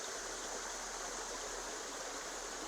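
Water flows in a creek used for panning gold, a constant close rushing babble that stays even and unbroken throughout.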